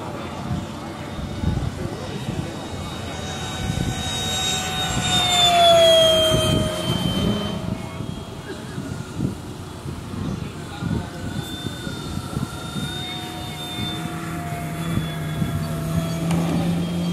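A Hanger 9 DHC-2 Beaver electric RC airplane, powered by a 6S 5000 pack through an E-Flite 60 amp ESC, whines overhead at a fly-in event, its tone rising and falling as it passes, with a steady outdoor background throughout.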